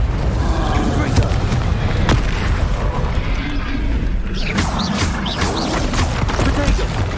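Confringo fire blast spell in the Hogwarts Legacy video game, dense booming blasts and crashing impacts over a constant loud rumbling game soundscape, with sharp bursts near the end.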